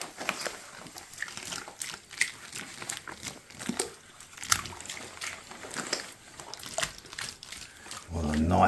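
Wet plaster splashed by hand onto a crown moulding in irregular wet slaps and spatters, moderately close, under a speaking voice, with a low rumble swelling at the end.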